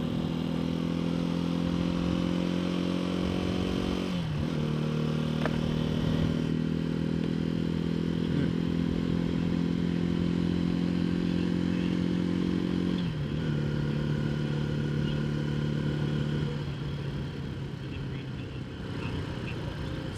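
A Janus Halcyon 250 hardtail motorcycle rides out of town on the road, its engine droning steadily up close with gear changes and shifts in pitch and a faint rattle near the end, with no talking.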